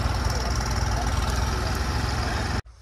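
A New Holland 3630 tractor with a reaper attached runs with a loud, steady low rumbling engine drone, close by, before cutting off abruptly near the end.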